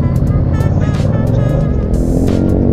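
Five motorcycles, including Yamaha MT-07, MT-09 and Tracer 900 and a Ducati Scrambler, rumble loud and close at a roadside meeting point, with a throbbing engine drone that swells as throttles are blipped.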